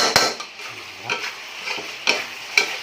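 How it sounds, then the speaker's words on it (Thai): Pork stir-fried with soy sauce sizzles over low heat in a wok while being stirred, with several sharp scraping clinks of a utensil against the wok at irregular intervals. "ผัดด้วยไฟอ่อนๆเพื่อให้ ความหอมของซีอิ๊ว นะครับ"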